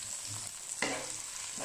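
Coriander sizzles as it is fried into a stir-fried spice mix for tom yam, a steady close crackle with a sharper burst of hissing as more goes into the pan, and no voices.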